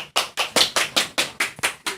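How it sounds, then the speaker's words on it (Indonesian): Classroom applause for a student group, about nine sharp rhythmic hand claps from a small group in an even beat, close and clear with no talking. "Tepuk tangan buat kelompok 2."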